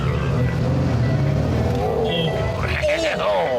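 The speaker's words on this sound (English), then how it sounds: "Listen to the thwop, thwop," A classic car is driven along West Midlands B-roads, its engine giving a steady, close, throbbing rumble that continues throughout under brief voices.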